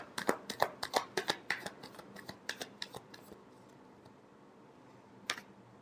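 Tarot cards being shuffled, a run of quick crisp riffling snaps in close succession that thin out, then one last isolated flick after a pause, fairly faint and close.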